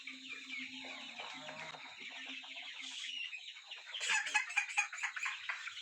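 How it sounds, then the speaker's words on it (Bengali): Clucking and agitated squawks from a 25-day-old Tiger breed chicken on a poultry farm, a busy run of close calls that grows louder and more frantic toward the end, with no talk. "একটা মুরগি ধরে দেখাচ্ছি।"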